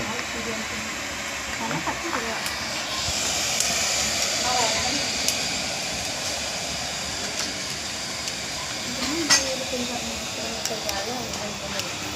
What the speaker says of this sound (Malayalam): ആ ഫാനൊന്ന് ഓഫാക്കിക്കാം